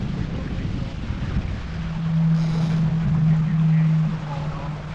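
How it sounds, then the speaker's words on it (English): Ultimate 20 sailboat racing fast in a championship, a steady low hum rising from the hull for a couple of seconds amid constant wind and water rush. "You can hear the hum in the boat."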